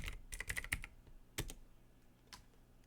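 Keys clatter on a computer keyboard during a Windows lab session on sharing folders, a quick burst of several taps followed by a few isolated, scattered keystrokes, close and fairly quiet with no talking.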